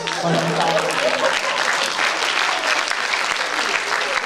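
An audience at an Ayurvedic lecture on heart disease claps in sustained, dense applause that stays loud and steady throughout, with some voices mixed in.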